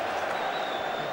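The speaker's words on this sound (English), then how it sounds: "A bit of a cheer there from the Southend fans." Southend supporters at a football match raise a brief crowd cheer with a scattering of applause, a dense distant stadium roar lasting about a second.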